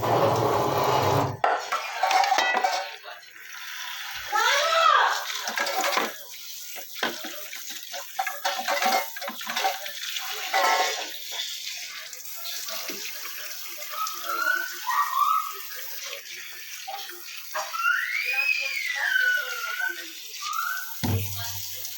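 Water splashes and clatters in a kitchen as diced potatoes are rinsed for a meat curry, with intermittent rushing, knocks of a pot or bowl, and scattered sounds, close and moderate in level.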